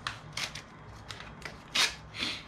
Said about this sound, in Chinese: 好，我先把它这个拆开啊，拆开